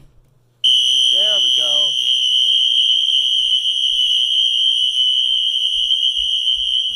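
Exceder fire alarm sounding on continuous, a loud, piercing steady electronic tone that starts abruptly and holds without break, with a person speaking briefly under it near the start.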